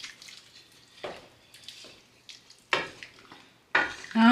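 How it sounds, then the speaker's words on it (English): A pot of Guyanese food with tomatoes, green onions and parsley being stirred, heard as irregular wet scrapes and clanks of a spoon against the pot, close and moderately loud, without speech. "We're gonna mix it up now."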